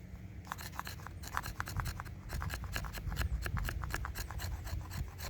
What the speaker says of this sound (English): getting the little shavings off of there, which is, you know, like I said, what we want for the ferro rod